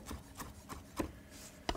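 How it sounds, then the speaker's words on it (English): Fresh mint is chopped for pesto, giving a string of about six close, crisp cuts at an uneven pace, separated by soft rubbing and scraping. "So what are we cutting up now? So then we'll go to our mint."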